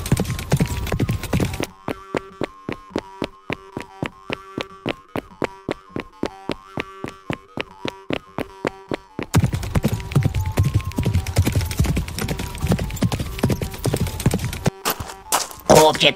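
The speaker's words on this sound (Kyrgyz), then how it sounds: "Жылкысын минип алып, желмогуздун артынан кубалап жөнөйт." Cartoon horse hooves gallop in a fast, regular clip-clop series of sharp hits for several seconds, set between louder stretches of dramatic music and effects in a Kyrgyz animated film.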